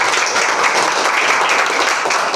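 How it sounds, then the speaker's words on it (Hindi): Loud, continuous audience applause welcomes a contestant to the hot seat at a school quiz competition, with dense, even clapping from many hands close by. "तो एक बार जोरदार ताली से इनको स्वागत किया जाए।"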